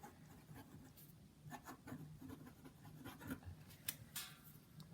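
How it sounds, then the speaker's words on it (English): A Pilot Metropolitan fountain pen with a medium nib scratching quickly across paper, soft close-up strokes in short irregular bursts. "This is a Pilot Metropolitan. It has a medium nib, and I'll just write on this paper really quickly."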